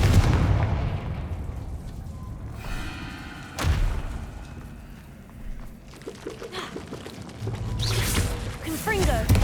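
Confringo blasting-spell explosions in Hogwarts Legacy: loud booming blasts with thuds and crackling debris, several bursts spread across the stretch amid game ambience, while a voice speaks in between.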